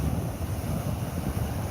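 Ocean waves washing up on the sand at Edisto Beach, a close, steady rushing wash mixed with wind buffeting on the microphone.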